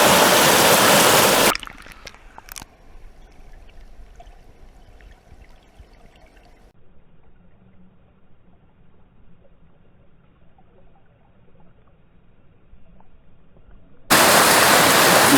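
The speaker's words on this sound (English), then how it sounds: "I'm going to show you guys these plunge pools up here in northern Pennsylvania. They're ripping" Rushing water pours through plunge pools in a northern Pennsylvania trout stream, a loud steady hiss at the start and end with a much quieter, muffled stretch in between.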